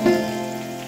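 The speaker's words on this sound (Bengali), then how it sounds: "এগুলো 2-3 মিনিট মতো ভেজে নেব।" Small cut potato pieces frying in hot oil in a village kitchen, a steady close sizzle that starts with a brief louder hiss and then holds an even crackle with no talk.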